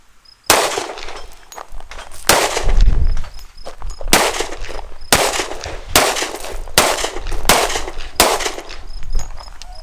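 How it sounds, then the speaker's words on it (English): A 10mm Springfield 1911 pistol fires about eight sharp, loud shots downrange at an outdoor range, spaced at a fairly even pace with echoing tails between them. "I might put a few more rounds down range before I leave."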